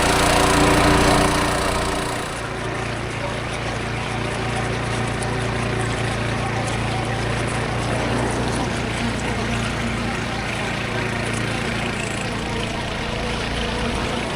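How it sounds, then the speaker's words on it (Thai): A motorboat engine drones steadily as the boat climbs a long stretch of river rapids in Laos. It is loud and close, with a constant tone and no talk heard over it. "เรือกำลังขึ้นแก่งท่านผู้ชมแก่งยาวถึง"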